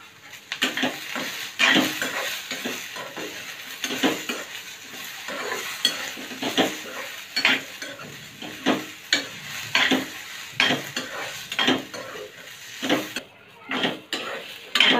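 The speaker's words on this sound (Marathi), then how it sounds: "कांदा लाल झालाय, खोबरा पण भाजला आहे बऱ्यापैकी।" Sliced onion and dry coconut roasting in a pan, with repeated rhythmic spatula scrapes and clinks against the pan over a soft, continuous sizzle.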